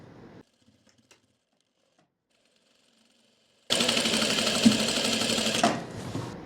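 A sewing machine runs a seam on palazzo pants in one loud continuous burst of stitching lasting a few seconds, after a near-silent pause with faint clicks, then trails off slightly at the end.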